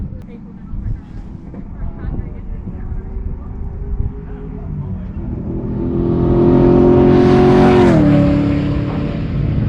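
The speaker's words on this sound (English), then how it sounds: "Dad's having a skid now" A Honda-swapped Lamborghini-style car skids at a race track, its engine note rising and sliding while tires squeal and hiss near the end, with wind noise on the microphone.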